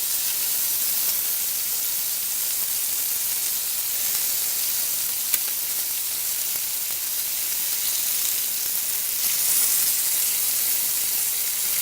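Stuffed rouladen fry in a hot pan, giving a steady, loud, continuous hiss and sizzle with no talk. A brief click stands out near the middle.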